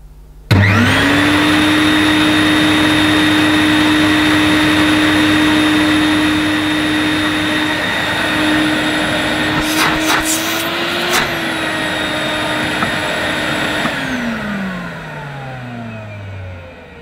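An Electrolux Masterlux wet and dry vacuum cleaner switches on and runs with a steady, loud motor whine for about thirteen seconds, with brief clattering mid-run, then winds down as the motor slows to a stop.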